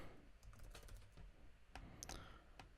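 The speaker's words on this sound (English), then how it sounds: "I'm actually just going to type here." Keys on a computer keyboard are tapped in a short, quiet, irregular burst of clicks while text is typed into a Photoshop text layer.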